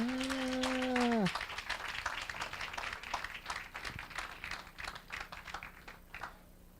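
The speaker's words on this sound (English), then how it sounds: "clap your hands." A church congregation claps its hands in a long ragged patter of applause that follows a sustained sung or held note and slowly thins toward the end, with a voice speaking faintly beneath.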